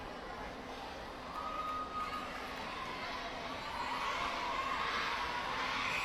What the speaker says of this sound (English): And crowd is counting down to the clock.